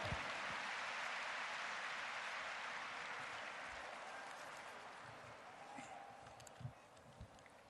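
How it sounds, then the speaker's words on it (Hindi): Applause from a large audience at a ceremony celebrating the 200th birth anniversary of Maharishi Dayanand Saraswati, a dense, steady wash of clapping that slowly fades, with a few sharper claps near the end. "तालियों द्वारा अभिनंदन"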